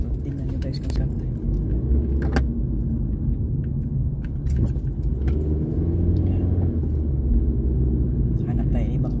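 A car drives through city traffic on a shortcut past an American school, its engine rumbling steadily close by from inside the cabin, with brief clicks and rattles on top and a voice talking over it.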